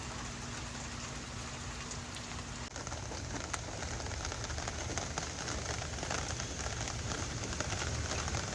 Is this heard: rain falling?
yes